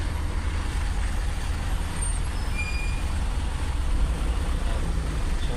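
Steady road traffic rumble with slow-moving cars and trucks on a congested Manila road, a brief air brake hiss in the middle of the low continuous drone.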